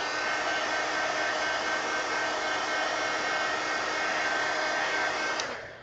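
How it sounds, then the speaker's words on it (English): Handheld heat gun blowing steadily over a craft project, a continuous close, loud fan roar with a hissing airflow that stays constant for several seconds before starting to wind down at the end. "Let me hit it with the heat gun."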